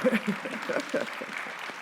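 Audience applause at a local candidates forum, a broad steady patter of clapping filling the room with a few voices mixed in.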